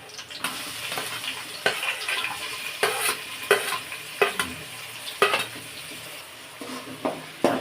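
Onion frying in a pan is stirred repeatedly, each stroke giving a sharp scrape and clatter over a soft steady sizzle, close and rhythmic.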